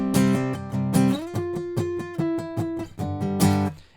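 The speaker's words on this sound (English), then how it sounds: "Let me show you what it would sound like without the octave chord." Electric guitar plucks a song intro as single-note lines without octave chords, a clean, moderately quiet rhythmic pattern of repeated strikes over four seconds.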